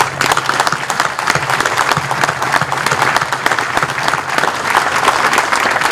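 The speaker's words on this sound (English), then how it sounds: "Let's give them another round of applause." Dense, sustained applause from a large crowd at a military graduation ceremony, a continuous loud wash of many hands clapping at once without a break.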